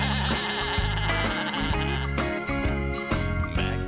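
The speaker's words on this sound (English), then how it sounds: "the little sheep." Sheep bleat over a loud children's song with music in the background, producing a few short wavering calls.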